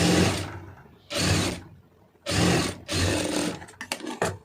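A sewing machine stitching a fabric strip (patti), running in three or four loud bursts separated by short pauses, with a few quick clicks and taps at the end; no talking.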